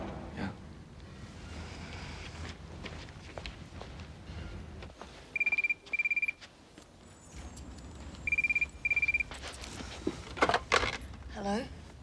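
An old-style telephone bell rings in two double bursts in a quiet room, with footsteps and rustling around it and louder handling noises near the end; no one speaks.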